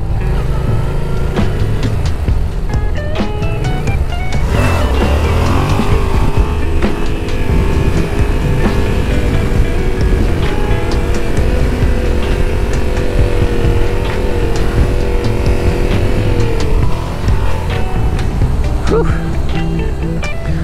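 Yamaha XSR700 motorcycle engine on a cold fall day pulling a wheelie, a loud sustained close roar rising and holding in pitch, with wind buffeting underneath.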